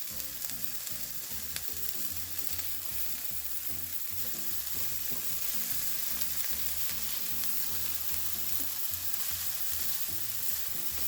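Tomatoes and thyme sizzle steadily in a pan with softened onions, a dense continuous frying crackle with occasional stirring scrapes, close and even throughout.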